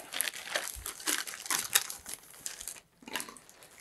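Plastic bag of AirMail model rocket kit parts being torn open and the pieces spilled out, a close run of crinkling, rustling and light clattering bursts with a brief pause near the end.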